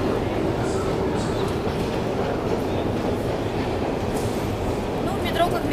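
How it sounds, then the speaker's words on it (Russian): A Saint Petersburg metro train rumbles steadily with a rolling clatter of wheels and faint squeals, loud and constant, while people talk over the noise. "Ну что, мы в питерском метро."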